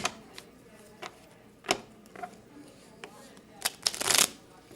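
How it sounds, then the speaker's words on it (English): Playing cards being shuffled in quick bursts, with crisp riffling flutters and soft taps close by, ending in a longer rapid riffle. "we're going to shuffle the deck."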